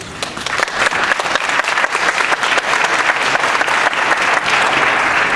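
A council meeting audience applauds the City Council president, a dense, steady burst of clapping that stays loud throughout without any speech.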